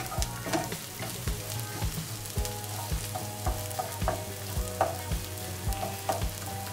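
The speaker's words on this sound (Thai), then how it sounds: "ผัดเครื่องที่เราตำหรือปั่นหรือบดแล้วเนี่ยนะครับ" Pounded curry paste stir-fried in lightly foaming oil for a Chinese sausage dish, hissing steadily with a close, continuous sizzle broken by repeated clicks and scrapes of a spatula against the pan; no voices.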